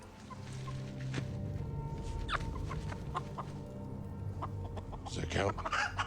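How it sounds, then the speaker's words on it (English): Chicken clucking in short scattered bursts throughout, with a sharper squawk near the end, over a steady busy background from a scene in Fallout season 1 episode 1. "you brought me a chicken."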